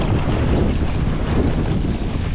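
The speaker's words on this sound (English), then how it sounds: "This storm is wicked." Strong, gusty storm wind roars continuously beside water where a fishing boat is grounded, buffeting the microphone with heavy low rumble and a faint watery wash beneath.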